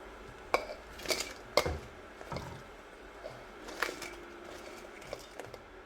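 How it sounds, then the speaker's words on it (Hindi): Fried taro (arbi) goes into a pan of keema with several metallic clanks and scrapes of a spoon against the pan, sharp knocks spaced out over low kitchen background. "इसमें अब हम ये जो अरबी हमने फ्राई की है ये इसमें डाल देंगे"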